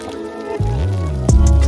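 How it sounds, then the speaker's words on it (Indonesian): Water is poured over the roots of an Indian waru bonsai cutting, three weeks after planting. It gives a close, wet splash and squishing gurgle, with a second brief splash near the end. "Untuk ngeceknya kita bisa siram dengan air ya."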